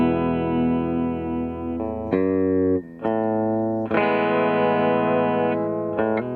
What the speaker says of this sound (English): we're going to use that to show you vibrato sound